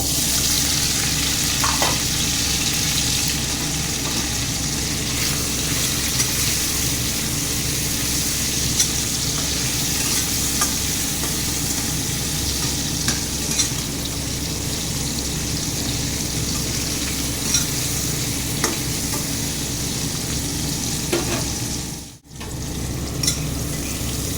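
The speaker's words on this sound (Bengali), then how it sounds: "পনিরগুলোকে একটু নুন হলুদ মাখিয়ে রেখেছিলাম, এটাকে ভেজে নেব" Paneer pieces coated in salt and turmeric fry in hot oil in a wok, giving a dense, continuous sizzle with faint crackles and stirring for over twenty seconds. The sound dips briefly near the end, and no one speaks.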